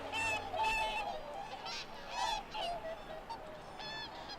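A family of swans calls at Eulsukdo in the Nakdong River estuary, with repeated loud, nasal honking notes that overlap from several birds.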